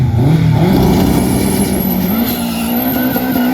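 A very fast race car launches hard at an Oulton Park sprint event, its engine roaring loud and close with a rising pitch as it accelerates away, tyres squealing briefly over the steady, sustained din.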